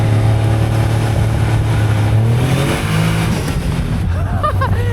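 A Caterham 170S three-cylinder engine drones loudly from inside the car while driving, its pitch rising briefly as it revs, then settling, with a faint voice underneath.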